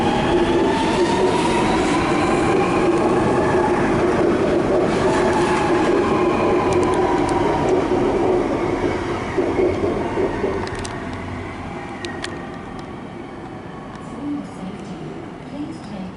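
A driverless metro train pulls out of Chatswood station in Sydney, heading for the sidings. It rumbles and hums loudly with rising motor whine, then fades as it moves away, and a voice speaks briefly.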